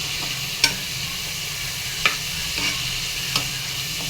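Ingredients frying in a pan for a curry until well browned: a steady, close sizzle with a few sharp utensil clinks scattered through it, no voices.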